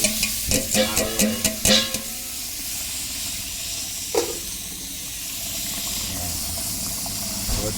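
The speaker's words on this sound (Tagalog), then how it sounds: "So ngayon ilunod natin yung malagkit na binabad ko na ng 48 hours." Soaked glutinous rice tips into a pot of simmering porridge, a quick burst of rattling pours and splashes, then a steady bubbling hiss with one clink of a utensil.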